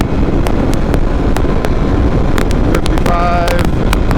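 A Yamaha TW200 dual-sport motorcycle runs near full throttle at speed, its steady engine drone half buried under constant loud wind buffeting on the microphone, with a few sharp clicks and a brief whine near the end.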